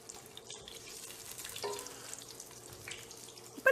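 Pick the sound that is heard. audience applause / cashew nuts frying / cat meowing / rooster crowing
cashew nuts frying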